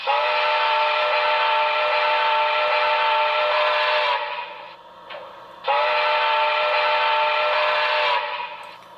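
A model steam locomotive whistle on a Broadway Limited brass hybrid ATSF #3460 Blue Goose (Paragon 4 sound) blows two long, loud, chord-like blasts close by, separated by a short gap, with no talking.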